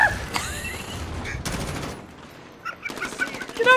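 Rapid gunfire crackles in the Warzone battle royale video game, bursts of automatic shots close and loud, broken by brief gaps.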